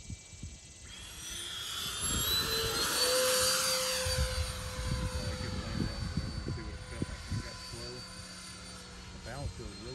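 A Freewing A-10 Thunderbolt II super-scale RC jet with twin 80mm electric ducted fans flies by with flaps in, a rising then fading high-pitched whine and rushing turbine-like roar at moderate distance, fairly faint overall.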